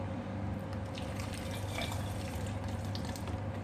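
Milk pouring into a blender jar holding banana for a milkshake, a steady liquid splash and trickle running continuously and fairly close throughout, with no talking.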